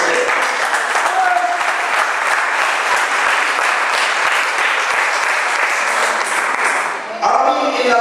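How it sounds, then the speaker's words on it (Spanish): A church congregation bursts into sustained, dense applause that fills the room steadily for several seconds, loud and close, before tapering off abruptly as a voice returns. "Suelta el aplauso para el Señor."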